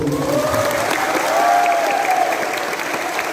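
Applause from a school crowd at an orientation assembly for new students at SMKN 1 Doko, a steady sustained clapping filling the space, with faint voices mixed in.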